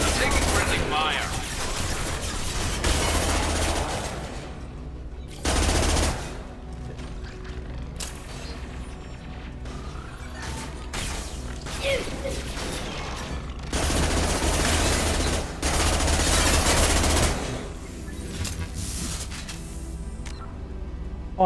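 Heavy, sustained gunfire and explosive bursts from a firefight in the video game Mass Effect 2, continuous and loud with periodic surges, with voices speaking over the battle.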